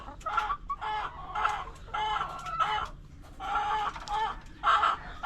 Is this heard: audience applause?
no